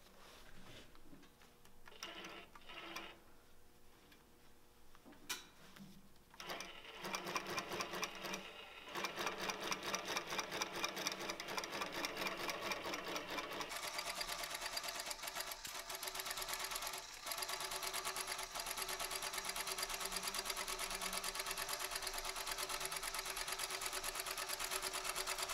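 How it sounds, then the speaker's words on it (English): A sewing machine basting a quilt runs steadily and loudly, its rapid mechanical stitching turning continuous and dense after a few short starts and stops at the beginning. "Then I'll go ahead and baste."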